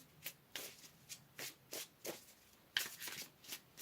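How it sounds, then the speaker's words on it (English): Tarot cards are shuffled by hand in a quiet room, a soft, close series of about ten rhythmic riffling bursts evenly spaced with short pauses between them. "Let's pull another card here."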